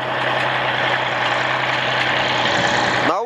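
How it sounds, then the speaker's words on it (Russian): A loud, steady engine drone fills the cab of a 33-year-old Kirovets K-701 tractor, constant and heavy, cutting off abruptly at the end. "Шум стоит вообще прям сильный. Я не знаю, как там тракторист без наушников катается."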